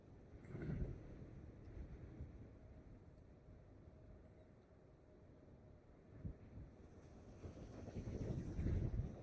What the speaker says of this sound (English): Wind is seriously gusting now